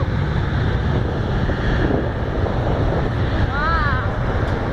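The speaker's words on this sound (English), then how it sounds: "Yeah, the A350's going." An Airbus A350 airliner takes off at the Farnborough air show, a steady broad roar heard through heavy wind buffeting on the microphone, with a voice briefly audible.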